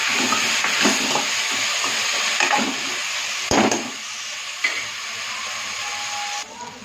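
Tomatoes with rock salt hiss and sizzle steadily in a pan, while a few scraping stirs cut in now and then, close and without speech.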